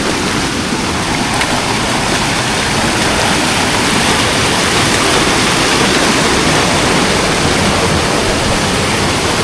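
A deep waterfall in a garden setting gives off a steady, loud, close roar of rushing water, unbroken for the full length, with no voices over it.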